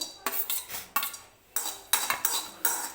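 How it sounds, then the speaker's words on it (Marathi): Coconut roasts in a hot kadhai as a spatula stirs it, giving about six sharp metallic scraping strokes in an uneven rhythm, close and fairly quiet, with no talking. "कढईमध्ये खोबरं टाकून घ्यायचं."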